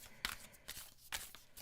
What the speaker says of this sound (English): I'm going to shuffle these 3 times